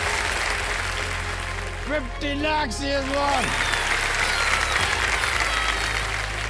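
Dense, steady applause from a studio audience at the KBC Season 15 quiz show runs throughout, with someone speaking over it.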